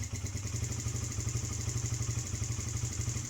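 A Kawasaki KFX50 ATV's small engine idling steadily up close, a fast even putter with a light mechanical clatter and no speech.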